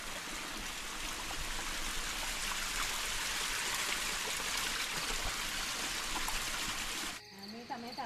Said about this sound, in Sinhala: උල්පත් වතුර දැන් මේ